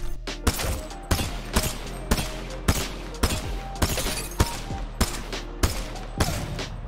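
Rapid single shots from the P2020 pistol in Apex Legends, about a dozen sharp, loud reports fired in quick, fairly even succession, close up over a low steady background hum.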